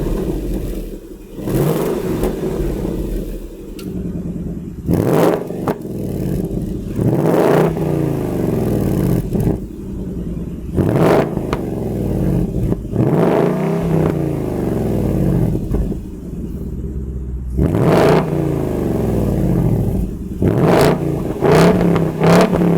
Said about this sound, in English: this thing also does feature the active valve exhaust system. So take a listen to what that sounds like